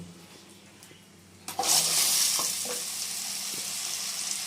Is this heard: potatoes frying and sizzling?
yes